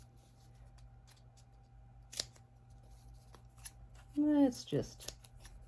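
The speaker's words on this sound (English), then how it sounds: "see if I can get this little circle with these big scissors" Big scissors snip at a small paper circle in a quiet room, giving a few sharp close cuts near the end, with someone speaking briefly over them.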